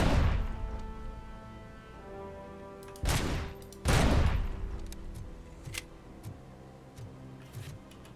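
Landmines being shot in the video game Robocop: Rogue City, with two loud, close explosive blasts in quick succession over a sustained musical score, followed by a few smaller sharp impacts.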